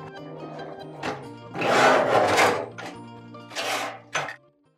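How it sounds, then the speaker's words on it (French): A grandfather's old slate-cutting machine with its cutting disc runs in a workshop, giving a few uneven bursts of grinding, rasping cutting, the loudest in the middle and a sharp one near the end, then silence. "cette machine-là qui a appartenu à mon grand-père, en fait, qui permet de couper l'ardoise grâce à ce disque-là"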